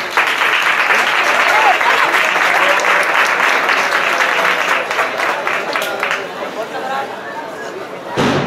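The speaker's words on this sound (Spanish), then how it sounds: "un fuerte aplauso a la banda que se va a presentar" A crowd applauds loudly and steadily, a dense wash of clapping with faint chatter mixed in that slowly tapers off.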